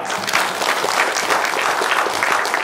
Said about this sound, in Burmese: ဟာလေလုယာ လက်ခုပ်တီးအောင်